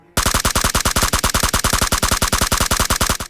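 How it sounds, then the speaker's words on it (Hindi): Rapid automatic gunfire from a shooter video game rattles off in one loud, sustained burst of evenly spaced shots lasting about three seconds, close and alone. "मैं थोड़ा सा इन वाली छतों पे आके देखता हूँ कि चारों तरफ फायरिंग किधर हो रही है"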